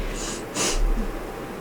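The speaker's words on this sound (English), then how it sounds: "Excuse me, I want to sneeze." A single short, breathy sneeze, close and fairly loud, preceded by a brief sharp intake of breath.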